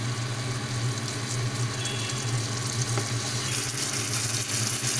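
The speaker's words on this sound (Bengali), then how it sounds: "মশলাটা ভাজা ভাজা একদম হয়ে গেল" Masala spices frying in oil for egg malai curry give a steady, even sizzle throughout, continuous and moderately close with no voices.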